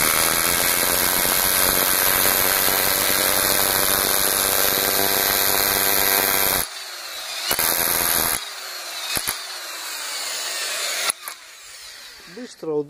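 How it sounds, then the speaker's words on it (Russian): A drill with a foam bit, cutting the hole and head recess for a plastic dowel in polystyrene foam, whines loudly and steadily for several seconds, then stops; brief bursts of drilling and handling noises follow with quieter pauses between. "вот это приспособление сразу сверлит и отверстие, и шляпку"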